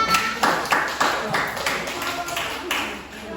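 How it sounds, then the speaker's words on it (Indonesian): A classroom group claps hands together in a short run of roughly a dozen fairly loud, close claps in a loose rhythm, with some voices underneath. "Tepuk tangan dulu untuk kita semua."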